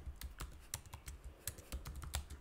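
Rapid, uneven keystrokes on a computer keyboard as a comment is typed into data science code, close and fairly quiet, with no talking.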